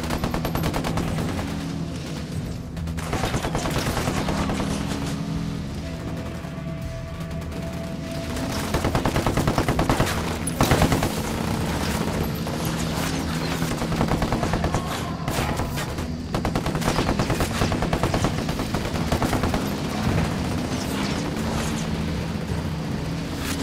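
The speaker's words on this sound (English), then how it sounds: "Opening fire." Gunfire in the video game Ghost Recon Wildlands, sustained machine-gun bursts and scattered shots with booming impacts, loud and continuous across the whole stretch with no talking.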